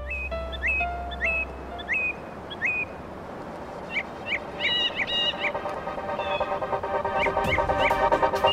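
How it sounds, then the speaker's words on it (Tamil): Chickens and other fowl calling outdoors in a village setting, repeated honking, clucking cries rising over steady background noise, becoming busier and louder toward the end, with no talk. "கோழி தனியாக போகுது"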